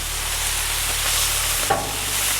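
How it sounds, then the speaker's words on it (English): Sausage sizzles steadily on a hot Blackstone flat-top griddle, a continuous broadband frying hiss with a brief scrape partway through. "So the sausage is cooking pretty quick."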